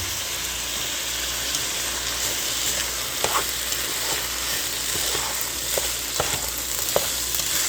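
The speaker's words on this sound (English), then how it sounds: "And I'm just giving that a stir." Shrimp fried rice with low-sodium soy sauce sizzles steadily in a pan while a utensil stirs it, giving scattered scraping clicks over a constant frying hiss.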